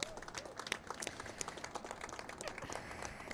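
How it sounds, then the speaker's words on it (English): Faint, distant applause from a small crowd at an outdoor ribbon cutting for new street furniture, scattered individual claps running steadily with a little voice underneath. "So just want to give one more round of applause because there's never enough for the students."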